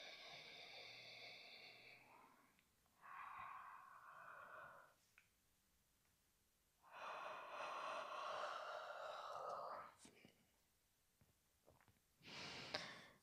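Long, breathy voiced yawns during a gentle evening yoga session, taken on the exhale. Four drawn-out yawns come one after another, each separated by a few seconds of quiet breathing.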